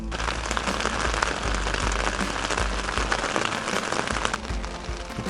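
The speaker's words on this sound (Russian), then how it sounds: "а дождь не переставая льет и льет" Rain drumming steadily on a tent during a rainy morning in camp near Angarsk, a dense, close patter of drops that carries on without pause, with no voices.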